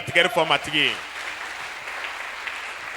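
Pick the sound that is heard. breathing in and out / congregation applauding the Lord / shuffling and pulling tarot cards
congregation applauding the Lord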